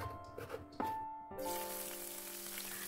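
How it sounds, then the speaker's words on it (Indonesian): Thin salted fish frying in hot oil in a home kitchen, a sudden loud sizzle that starts after a few soft clinks and keeps hissing steadily. "Terus saya goreng dulu, jangan terlalu kering takutnya nanti pahit ya teman-teman."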